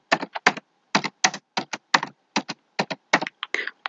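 Crisp, close keystrokes on a computer keyboard come in quick irregular clusters with short pauses between them.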